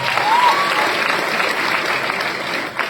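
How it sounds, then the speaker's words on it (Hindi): Loud, dense applause rings out in a hall from an audience honouring an elder brother seated among them. A brief whistle cuts through near the start, and the clapping fades slightly at the very end. "मैं चाहूंगा बड़े भैया के लिए एक बार जोरदार ताली होनी चाहिए।"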